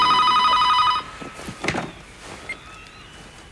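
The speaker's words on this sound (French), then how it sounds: "Eric, t'es fou ou quoi de téléphoner ici?" A telephone bell rings indoors at home, a bright continuous trill for about a second that cuts off, followed by quiet shuffling and handling noises.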